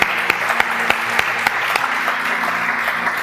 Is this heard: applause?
yes